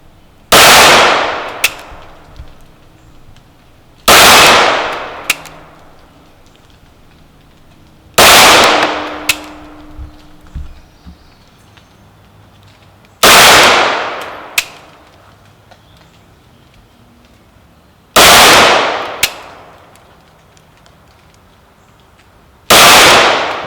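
Rex Zero 1S 9mm pistol fired in double action, six loud sharp shots spaced about four seconds apart, each with a fast attack and ringing outdoor decay, with no talk between them.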